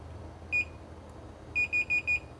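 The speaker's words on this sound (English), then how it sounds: "we're getting beeps, so that is in fact correct" Beeps from a SignaLink USB radio interface during jumper setup: one short high beep, a pause, then four quick evenly spaced beeps, clear over a low hum with no talking.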